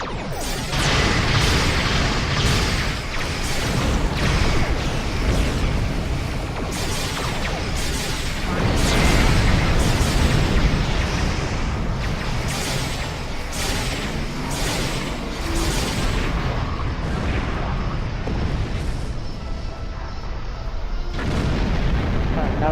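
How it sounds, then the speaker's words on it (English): Repeated heavy booms of Vodwar torpedo explosions in Star Trek Online space combat, dense and continuous over a rumbling battle bed, with frequent sharp blasts throughout. "Those Vodwar torpedoes are rough."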